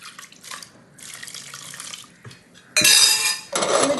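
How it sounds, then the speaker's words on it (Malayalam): Water is poured into a spiced curry mix in a pressure cooker. After a few soft clinks, a loud, close gush of splashing water starts, pauses briefly, then continues, with no voices. "ഇതിന് വെള്ളം തക്കത്ത വെള്ളവും നമുക്ക് ഒഴിക്കാം."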